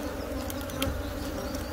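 Honeybees buzz around an opened ten-frame hive during a canola-season split, a dense steady drone with individual bees whirring close past, continuous and moderately loud, no talk.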